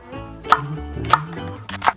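A knife cuts a Korean green onion (daepa) into large chunks on a cutting board. Three distinct, close chops land at an even pace, with no voices.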